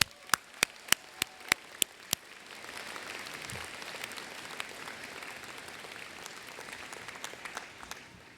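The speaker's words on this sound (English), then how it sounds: "Let's give all of those people a big round of applause" At a university graduate commencement ceremony, a few sharp, evenly spaced claps from nearby hands lead into broad, sustained applause from a large crowd that holds steady throughout.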